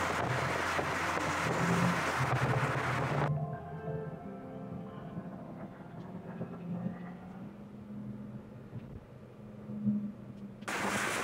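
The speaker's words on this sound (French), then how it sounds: "On entend quand même le moteur rugir." A Dongfeng Aeolus A30 GS car engine roars as it revs and accelerates in sport mode, with road and wind noise. The sound drops to a quieter hum, then surges again at the end.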